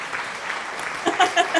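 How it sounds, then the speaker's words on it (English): Brief applause rises out of quieter background sound and grows a little denser near the end, with voices mixed faintly underneath. "Yay, applause!"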